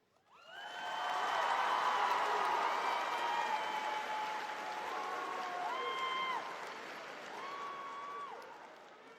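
At a high school graduation ceremony, a large crowd breaks into sustained applause that swells quickly and holds for several seconds, with scattered cheers and whoops rising above the clapping.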